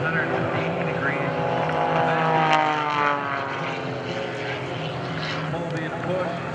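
Blue Angels jet aircraft flying at an airshow, a steady loud roar of engines sustained throughout, with an announcer talking over it.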